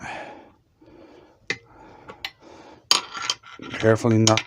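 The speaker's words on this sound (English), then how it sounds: "Put the nut on. Grab a spanner. Tighten it down." A spanner tightens a nut down over a steel washer on a Vevor 30-litre pressure pot converted for resin casting, giving scattered sharp metallic clinks and scraping that build into a denser rattle near the end, with faint breathing underneath.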